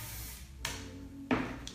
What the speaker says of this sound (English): Okay, so I'm gonna spray that.